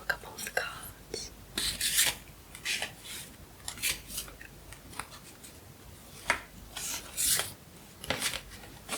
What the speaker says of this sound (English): So let's give these a little shuffle and I'll show you a couple of the cards.